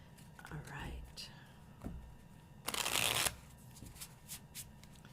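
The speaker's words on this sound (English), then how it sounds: "I'm going to give this a good shuffle since it is the first shuffle" A tarot deck gets a vigorous shuffle, one dense riffling burst of about half a second, preceded by soft, quiet vocal sounds and handling noise in a hushed room.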